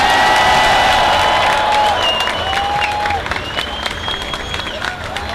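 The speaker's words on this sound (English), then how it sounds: "Give him a big round of applause." A large crowd at a protest rally for Gaza applauds loudly with dense, sustained clapping, joined by whistles and cheers that slowly taper off.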